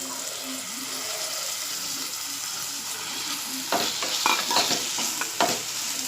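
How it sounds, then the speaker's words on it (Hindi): Rinsed dried kadh stir-fried with onions in a pan: a steady oily sizzle runs throughout, with clattering utensil scrapes and taps growing louder in the second half. "और इसे प्याज में थोड़ा टाइम भूनूंगी"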